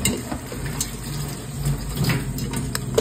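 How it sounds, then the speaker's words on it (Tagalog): Water poured into a cooking pot of crab in a home kitchen in Bicol, Philippines, a steady close splashing and gurgling that runs for the full three seconds with faint clinks of cookware. "Tapos butakan ko tubig."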